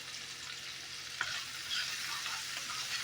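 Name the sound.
stirring frying cabbage and smoked sausage links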